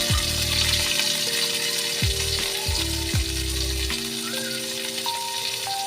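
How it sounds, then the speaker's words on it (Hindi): Chopped cabbage fries in oil in a pan with a loud, steady, close sizzle, while several low tonal sweeps and sustained tones sound over it. "अब मैं इसमें पत्ता गोभी को फ्राई कर लेती हूँ।"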